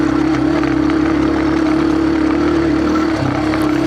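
A Yamaha TW200 trail motorcycle, its single engine droning loud and steady at a constant pitch while trail riding over rocks, with a slight dip near the end and no voices over it.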